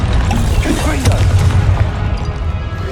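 Confringo fire spell blasts in Hogwarts Legacy combat: booming bursts keep erupting inside a dense, loud, unbroken wash of battle noise that lasts the whole stretch.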